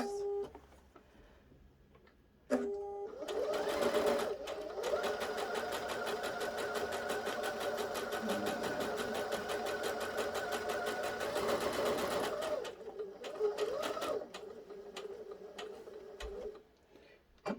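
A sewing machine stitches a lip balm pouch in a steady, fast run of needle strokes lasting about eight seconds, with brief starts and stops and some handling noise before and after.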